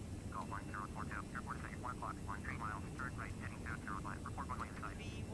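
Boeing 747 jet engines roaring on the takeoff roll in the Prepar3D v5 flight simulator, a low steady rumble held throughout, with chirping bird-like calls over it and a voice talking.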